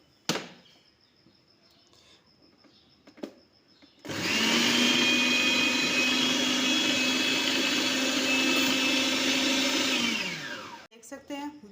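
Electric chopper grinding chicken: a loud, steady motor whine starts abruptly, holds for about six seconds and then winds down, with faint clicks and handling noise before and after.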